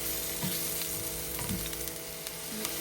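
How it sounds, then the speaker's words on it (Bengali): Chopped onion sizzling in hot mustard oil, a steady close crackling hiss with a few soft stirring scrapes, no voices. "এই তেল তো আমার গরম হয়ে গিয়েছে এখন দিয়ে দিচ্ছি পেঁয়াজ কুচি"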